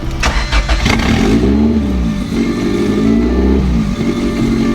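A B-swapped Honda Civic engine cranks with a few rapid chugs, then catches and settles into a loud, near idle with slight revving.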